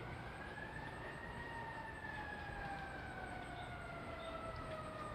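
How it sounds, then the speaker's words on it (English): A fire engine siren wails in the distance, its slow rising and falling tone drifting over a steady background hum. "Now sounds like a fire engine."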